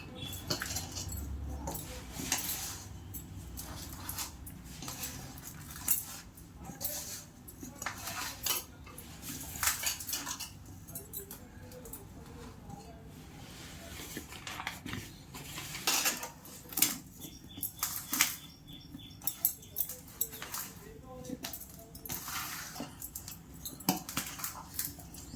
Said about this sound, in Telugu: నేను 3 మిశ్రమాలు తీసుకున్న తర్వాత ఇలా కలపాలండి బాగా